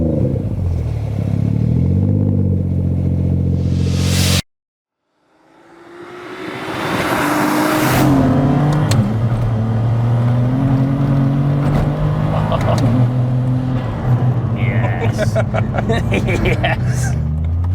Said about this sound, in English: we'll hop in, get it fired up and go for a spin